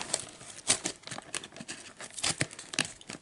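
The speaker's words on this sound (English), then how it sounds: "my scissors struggling to get through this" Close, repeated crinkling and snipping sounds as scissors cut the plastic packaging of a 1/64 diecast Kyosho Ferrari 456GT model car, in irregular bursts.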